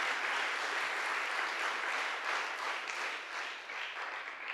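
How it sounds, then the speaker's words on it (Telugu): Audience applauding continuously at a church festival prayer gathering, a steady dense wash of clapping heard from within the crowd, fairly soft and tapering slightly toward the end, with no voices over it. "కొట్టండి గట్టిగా చప్పట్లే"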